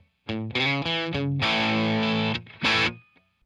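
A distorted electric guitar plays a short, dry riff of sustained chords and notes, with no delay, echo or reverb trailing off.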